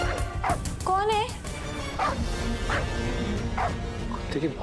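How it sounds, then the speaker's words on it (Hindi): A dog barks several times in short, sharp bursts at close range, with a whiny, yelping tone between barks. "कुत्ते की भौंकने की आवाज"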